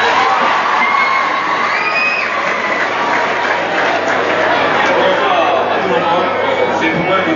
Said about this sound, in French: Maintenant, applaudissez un peu pour moi aussi.